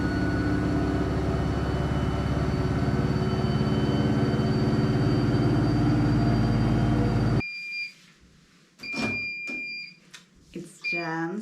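A domestic washing machine runs loudly with a steady droning hum and tonal whine for about seven seconds, then stops; afterwards someone talks over quiet room sound with faint beeping tones.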